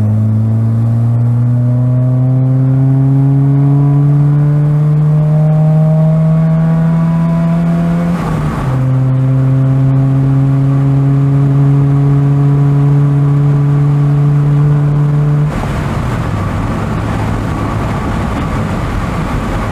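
Fiat Seicento small engine pulling hard through the gears, a loud buzzing drone rising steadily in pitch, a quick dip at a gear change, another long climb, then a drop to a lower note, with no talking.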